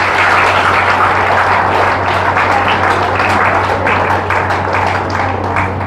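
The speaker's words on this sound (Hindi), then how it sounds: "अपने लिए जोरदार तालियां हो जाएं" Loud, sustained clapping from a gathered audience at a spiritual talk on healthy living, a dense wash of hands with a low steady hum beneath and no speech over it.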